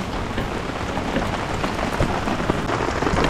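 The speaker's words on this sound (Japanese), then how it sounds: "雨をね楽しみたいと思います" Steady rain falling at a cherry-blossom campsite in Niigata, a dense, even hiss with scattered droplet taps throughout and no voices.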